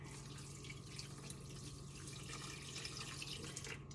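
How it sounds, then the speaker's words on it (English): Cold ice water is poured into churned cream while making butter at home, a steady trickling splash that runs without pause, close and quiet. "I'm going to add some cold water."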